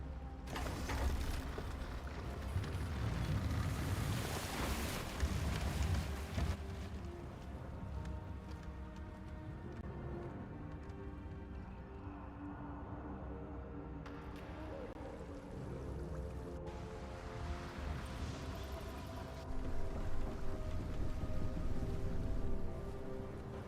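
Water sloshes and laps around a boat sailing in the video game Baldur's Gate 3, a soft continuous wash with mechanical creaks and rumbling swells that rise and ease, ambient and fairly faint.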